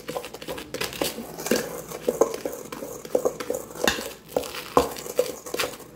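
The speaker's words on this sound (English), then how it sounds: "You want to get all the cocoa powder mixed together in here." Brownie batter with cocoa powder is mixed in a bowl, a spoon scraping and knocking repeatedly in an uneven, busy rhythm, close and fairly loud.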